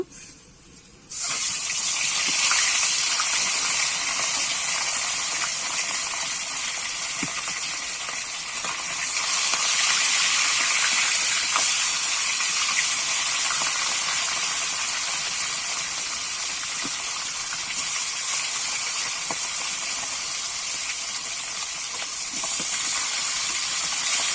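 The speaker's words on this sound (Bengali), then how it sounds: "আর যে মাছগুলো আছে আমি একইভাবে কিন্তু ভেজে নেব।" Pieces of grass carp fry in hot oil for a Bengali-style curry, a loud, continuous hissing sizzle that starts abruptly and holds steady with faint crackles throughout, no voices.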